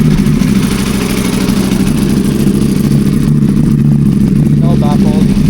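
A superbike engine idles and revs loudly through an aftermarket exhaust with no baffles, a steady deep rumble that runs throughout, with people talking over it.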